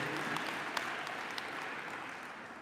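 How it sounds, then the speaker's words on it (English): Applause for the EPA Administrator at a clean school bus event in DeKalb County, Georgia, a steady crowd clapping with scattered sharp claps, fairly faint and fading slightly toward the end. "Give him a great big round of applause"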